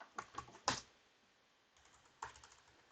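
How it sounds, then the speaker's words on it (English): A handful of quiet keystrokes on a computer keyboard, a short burst of clicks, a pause, then a few more taps, close and faint with no voices. "I can type here."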